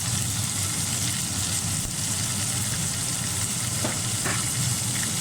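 Meat and spices for aloo gosht curry fry in a pot with garam masala and coriander powder, making a steady, continuous sizzle throughout with a couple of faint stirring clicks.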